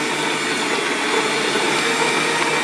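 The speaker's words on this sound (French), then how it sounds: "je vais mettre le fouet sur le batteur et je vais faire mousser ça à vitesse moyenne" An electric hand mixer fitted with a whisk beats butter for buttercream at medium speed, a steady loud whirring drone with no pauses or talking.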